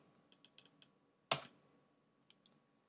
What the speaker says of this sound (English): we will type 1 and then hit Enter to make the change